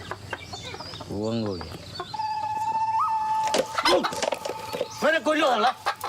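Chickens cluck and a rooster-like call rises near the start, followed by more clucking and fowl cries in a rural yard, mixed with a tonal whistle-like line and people talking through much of the scene.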